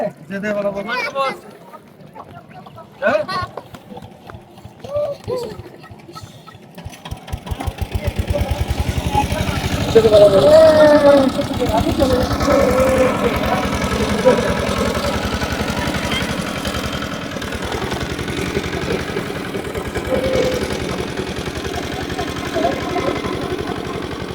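A river boat's motor chugs in a steady mid-pitched drone that grows louder and persists as the boat pulls away, with people talking over it at the start.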